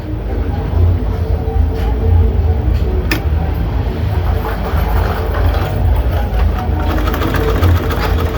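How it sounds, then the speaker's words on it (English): A sewing machine runs steadily while top stitching a long gown, a continuous close mechanical whir with fine rapid ticking and a few light clicks. "now I will top stitch it"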